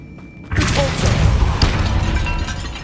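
In a tomb in Hogwarts Legacy, a Depulso force spell slams into bones: a sudden loud booming crash with clattering, shattering debris that rumbles on for a couple of seconds.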